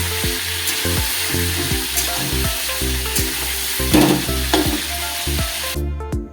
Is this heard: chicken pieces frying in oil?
yes